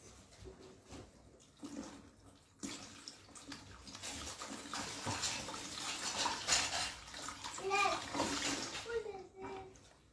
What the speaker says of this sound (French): Ce soir, je mets un seau. Je lave mes mains.